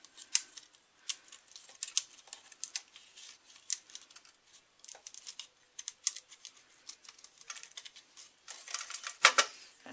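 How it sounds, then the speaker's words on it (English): Die-cut pieces being popped out of cardstock one after another make a string of quiet, sharp little ticks and clicks close by, spaced irregularly, with a louder snap near the end and no voices. "Just pop those backings out."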